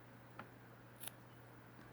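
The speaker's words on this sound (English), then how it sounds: "I'll take my scissors and I'll just cut right down the" Scissors cut a dry nail polish strip in two quick, faint snips, one early and one a bit later, against a quiet background hum.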